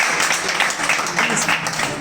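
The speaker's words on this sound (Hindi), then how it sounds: "प्रियांशु के लिए तालियां बजाते हैं।" A hall audience at a commerce coaching institute's first anniversary celebration claps for a promising young student, a dense, steady burst of applause filling the space for a couple of seconds.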